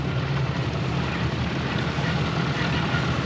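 Massey Ferguson tractor at a tractor pull hook, its rear end putting out a steady mechanical drone with a low whine, continuous and fairly loud with wind-like broadband noise over it.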